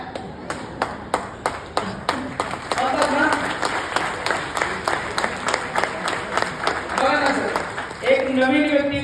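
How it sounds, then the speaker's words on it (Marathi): An audience clapping, starting as distinct rhythmic claps in unison that build into steadier, fuller applause, with voices heard toward the end. "वरून म्हणतात वाजवा टाळ्या."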